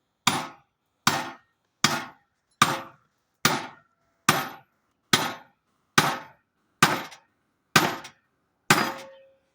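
Eleven sharp metallic strikes at an even, unhurried pace, each a hard hammer blow on a steel splitting wedge while splitting firewood, with a short ringing decay, nothing else in between.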